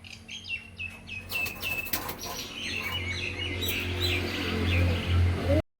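Punjabi Malbai pigeons in a busy loft, with bright chirps and fluttering up close over a steady low murmur that continues throughout.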